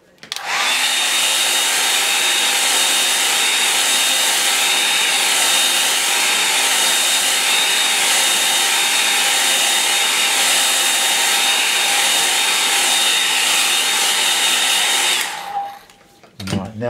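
A hair dryer blowing steadily and loudly on a watercolour painting for about fifteen seconds, then switching off.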